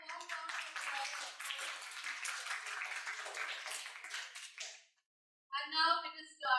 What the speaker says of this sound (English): Let us have a warm round of applause.